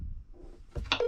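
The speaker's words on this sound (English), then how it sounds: "I'm gonna see if I can make that phone call real quick." Mobile phone dialing a call from inside an overland expedition vehicle, a short run of quick keypad tones ending in a sustained electronic beep, close and clear.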